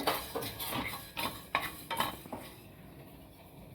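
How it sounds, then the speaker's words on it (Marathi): Coriander seeds, black peppercorns, cloves and cardamom dry-roasting in a pan for chole masala, with a spatula scraping and stirring in a few sharp scrapes, then a faint quiet rustle. "धणे चांगले आपण असे भाजून घेऊ"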